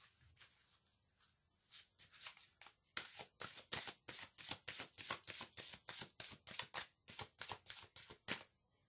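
Tarot cards are shuffled close up in a fast, rhythmic series of crisp papery riffles and flicks, building from a few soft handling sounds into a steady run of sharp bursts.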